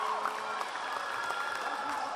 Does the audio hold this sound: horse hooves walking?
no